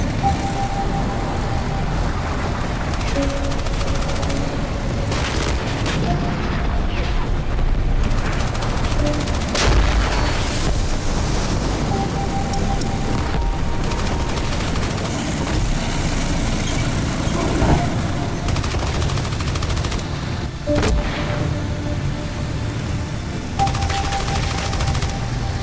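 Dense gunfire from a battle in the video game Armored Brigade II, with tanks and armored vehicles: a near-continuous clatter of rifle and machine-gun bursts, heavy booms here and there, and a rumbling engine and ambience underneath.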